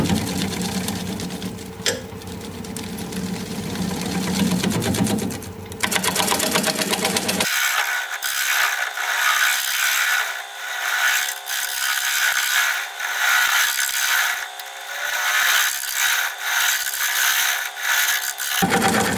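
A wood lathe spins as a bowl is turned, giving a dense, continuous mechanical whir with rhythmic scraping and rattling that shifts character partway through, loud and near, with no talking.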